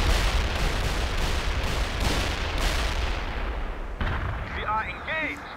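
A massive rocket artillery barrage in World in Conflict: Soviet Assault roars as a dense, continuous rumble of launches and explosions, then thins into whistling, warbling projectile sounds; a voice talks excitedly over it.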